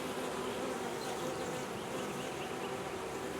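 Honeybees buzz densely and steadily throughout, close up at an open hive during cold weather, a continuous swarm drone with no voices.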